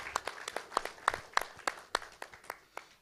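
Audience applause at a live business speaker session, heard as a moderately faint run of separate sharp claps at an uneven rhythm, thinning toward the end with no voices over it.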